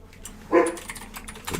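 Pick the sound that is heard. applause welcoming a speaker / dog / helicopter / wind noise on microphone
dog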